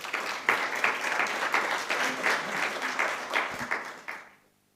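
An audience at a talk on creative and cultural industries in Aragón applauds a speaker being introduced, a steady moderately loud round of clapping for several seconds that fades out near the end.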